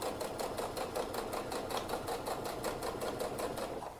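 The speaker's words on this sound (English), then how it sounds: "I'm just going to close it up with long stitches" A sewing machine runs steadily, stitching a wedding dress skirt closed with long basting stitches, a fast even rhythmic whir heard close and alone throughout.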